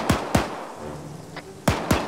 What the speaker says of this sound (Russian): На 220 выстрелы, по-моему, нет?